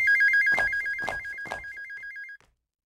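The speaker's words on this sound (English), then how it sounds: "Metcalf, your shoe is ringing?" A phone ringtone trills in a steady warbling electronic pattern with three louder chime pulses, ringing close and clear for over two seconds before cutting off abruptly; no one speaks over it.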